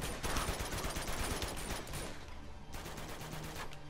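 Rapid gunfire from the Uncharted 2 video game, dense overlapping shots and bursts that crackle continuously and loudly throughout, with no talking.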